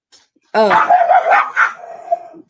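A dog gives one drawn-out, whining bark that slides into a wavering howl-like yelp, close and loud, then fades out.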